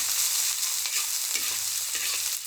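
Spring roll filling of pork, char siu, shiitake, bamboo shoot and prawn stir-fried in a hot wok with ginger and garlic, a steady loud sizzle with a few scrapes of the spatula and no talk.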